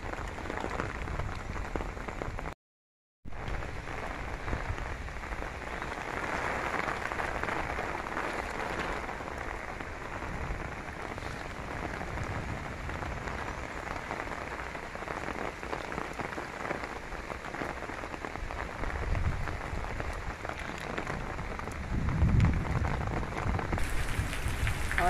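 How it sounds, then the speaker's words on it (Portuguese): Steady rain falls at a zoo in Guarulhos, a dense, even hiss of drops pattering on nearby surfaces that continues for the whole stretch, with a brief silent gap near the start. "Olha, gente, a chuva. Tá chovendo pra valer, hein?"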